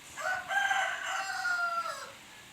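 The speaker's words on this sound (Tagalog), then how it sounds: "Huwag mo nang pansinin yung manok." A rooster crows once, a drawn-out cock-a-doodle-doo lasting about two seconds, fairly close and clear with no talking.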